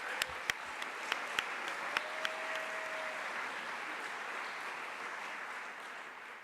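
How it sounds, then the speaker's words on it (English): Audience applause at a youth poetry event in the Library of Congress, a few sharp nearby claps at the start, then an even wash of clapping from a crowd that continues at moderate level. "So round of applause to this program"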